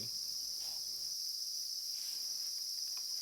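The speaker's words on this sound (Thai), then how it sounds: "จิ้งหรีดในบ่อปูนของที่นี่ ถูกเลี้ยงในระบบฟาร์ม" Farmed crickets in a concrete pond bedded with black rice husk and egg trays chirp in a thin, high, continuous trill. It is faint and steady, with a little soft low rumble at the start.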